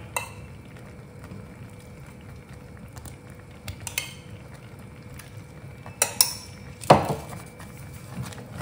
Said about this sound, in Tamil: இந்த ஸ்டேஜில் கொஞ்சம் கொஞ்சமாக நெய் சேர்த்து கிளறிக்கலாம்